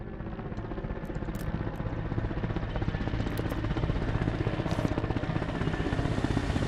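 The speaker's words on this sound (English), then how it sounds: "Another heli on the way." An Mi-8 helicopter in a video game approaching with a steady rotor thump and engine drone, loud and continuous, slowly building in intensity.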